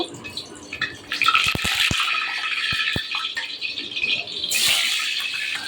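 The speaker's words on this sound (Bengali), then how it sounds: "এখন আমি আলুগুলো দিয়ে দেব, আলুগুলো একটু একটু করে দিয়ে ভেজে নেব।" Potatoes are dropped into hot oil in a kitchen and begin frying. A continuous close sizzle and hiss is broken by a few sharp clinks and rattles as the pieces go into the pan.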